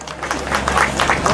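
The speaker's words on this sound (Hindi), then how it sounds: "जोरदार ताली बजा के अभिनंदन और स्वागत करो" A crowd claps at an outdoor political rally in Raigarh, a brief burst of steady applause with a faint voice mixed underneath.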